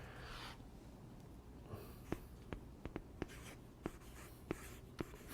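A marker writes on a board in quiet scratching strokes, punctuated by a series of crisp taps as it meets the surface, heard alone in a still room.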